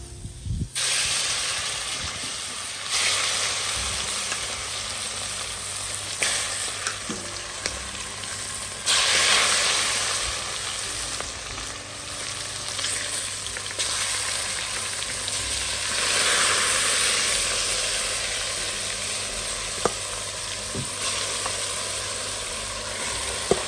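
Mutton sizzles and fries steadily in a pan for Christmas dinner, a continuous close hiss with shifting surges of spatter and occasional louder pops, no talk over it.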